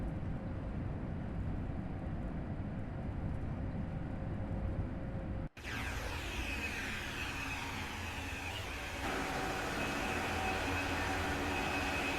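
A high-speed train runs at top speed in Train Sim World 3 with a steady, loud roar and rushing wind noise, broken once by a brief dropout before the rumble continues.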